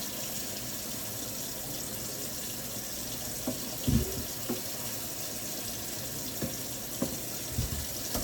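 Tap water runs steadily into a kitchen sink while a banana is rinsed under it, a continuous hiss with a few soft knocks and handling bumps near the end.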